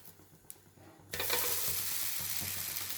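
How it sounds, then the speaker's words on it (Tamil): A faint scrape, then a loud steady sizzle of drumstick-leaf dosa batter frying on a hot pan, continuing evenly without speech. "தோசை வேகட்டும், வெயிட் பண்ணுவோம்"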